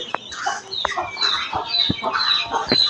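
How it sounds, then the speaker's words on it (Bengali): Small native hens with their chicks clucking and chattering close by, a busy overlapping run of short calls and peeps with no speech. "ছোট বাচ্চালা দেশি মুরগি দশটা বাচ্চা"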